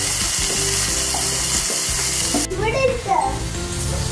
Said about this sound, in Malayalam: ഞാനിപ്പോ ഒന്ന് ഫ്രൈ ചെയ്തെടുത്തേക്കാന്ന് വിചാരിച്ചു.